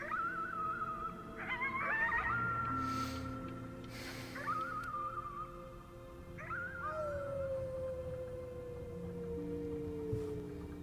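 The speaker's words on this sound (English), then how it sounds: "You howled at the moon at the top of your lungs." A child in the video game Before Your Eyes howls at the moon at the top of their lungs, a long rising and falling wail repeated several times over sustained tones, loud and close with no talking.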